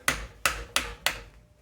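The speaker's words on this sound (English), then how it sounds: "Take a hammer, tap the back side." Four sharp hammer taps on metal while removing a U-joint, evenly spaced with a bright ringing attack on each, close and fairly loud.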